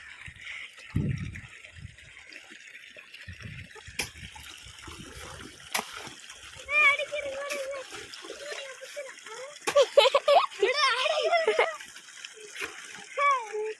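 A child splashes and plays in water while dropping a key chain in, out on a sugarcane farm during irrigation, with intermittent light splashes and trickles, near and fairly quiet, with people talking over it.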